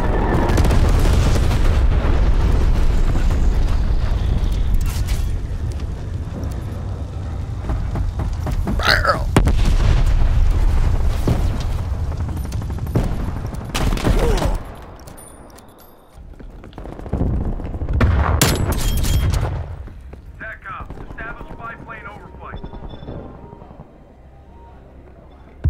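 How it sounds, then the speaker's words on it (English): A napalm strike erupts in Black Ops Cold War with loud booming explosions and crackling fire, a few sharp blasts rising over a steady roar. Game voice announcements break in at intervals. "Enemy napalm strike incoming."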